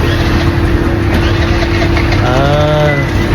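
Vehicle engines idle and rumble steadily behind a shawarma shop in Al Warqa, a continuous mid-pitched drone with a passing motor rising briefly near the end, no talk.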